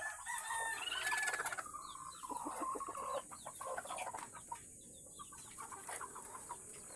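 Brooding hens and other chickens cluck and murmur at close range in a series of short, irregular calls over a quiet farmyard background.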